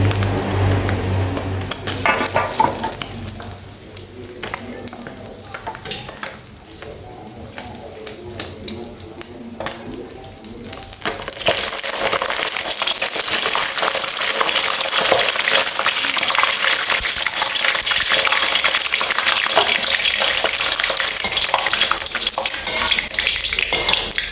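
Fluffy shredded catfish deep-frying in hot oil for a Thai yam salad, a dense, loud, continuous sizzle that swells partway through, with someone speaking in Thai over the bubbling.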